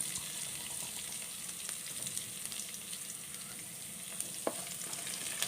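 Cumin seeds frying in hot oil with ginger and green chili, a steady close sizzle with a few faint scrapes and small pops throughout, no voices.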